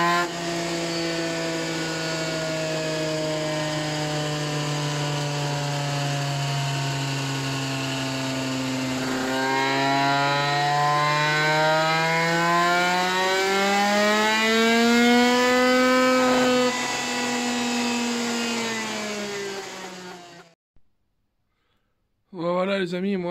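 A 70cc moped engine with a TXT exhaust pipe revving hard and steadily, its buzzing pitch wavering and climbing before it cuts out abruptly near the end, then a brief burst of sound returns.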